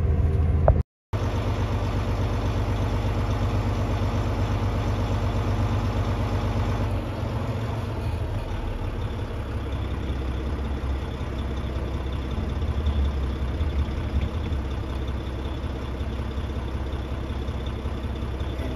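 Truck engine idling steadily during a CDL pre-trip inspection while the air brake pressure builds toward the governor cutoff, a constant close low rumble after a brief dropout near the start.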